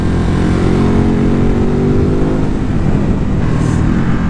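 A Ducati Hypermotard 950 SP motorcycle with a 937 cc V2 engine revving loudly and close, a continuous rumbling drone whose pitch climbs steadily as it accelerates, with no voices.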